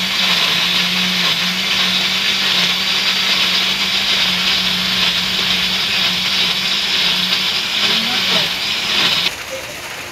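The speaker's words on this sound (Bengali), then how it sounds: "এই যে আমার রসুন ব্লেন্ডার করা হয়ে গেছে।" A kitchen blender grinds garlic with a loud, steady high whir for about nine seconds before the motor cuts out and the noise drops to a low background hum.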